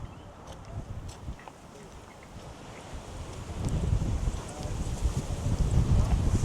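Strong wind buffets the microphone outdoors at a shooting range in Valdosta, Georgia, a broad low roar that stays moderate at first and then grows louder and more constant from the midpoint on, with no talk.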